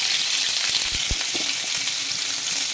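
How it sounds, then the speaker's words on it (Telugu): Onions hiss and crackle in hot oil in a kadai, a loud, continuous close-up sizzle with a few low knocks from the pan partway through. "ఆనియన్ వేసేసుకోవాలి"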